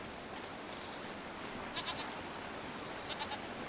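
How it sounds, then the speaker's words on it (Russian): A goat in the video game Jade Empire bleats twice in short quavering bursts, fairly faint over a constant hiss of background ambience. "Коза. Дереза."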